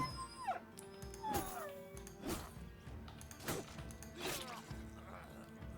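A dog in the video game Battle Brothers yelps and whimpers in short, repeated cries amid clashing combat sounds and game music, fairly quiet throughout.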